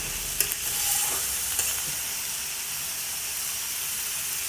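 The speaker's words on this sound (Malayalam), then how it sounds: "നമ്മളിങ്ങനെ ഒന്ന് ഇളക്കി ശകലം നേരെ ഇളക്കണം." Elephant yam stalks and green gram get stirred in a pan for a thoran, with a steady hissing sizzle and a few scraping strokes near the start that give way to a continuous soft frying hiss, and no voices.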